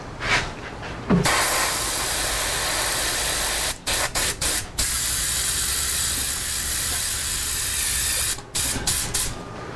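A Badger 250 airbrush with its large tip sprays a coat of paint in a steady, close hiss that runs for several seconds, broken by a few short stutters and brief pauses.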